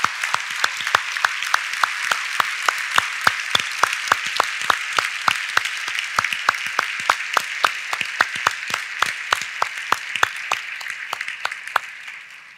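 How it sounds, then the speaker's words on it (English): Sustained applause for a retiring police officer at a city's State of the City address, dense steady clapping from a large audience lasting throughout and tapering at the very end. "I'd like to give him a very special round of applause for all the years of public service"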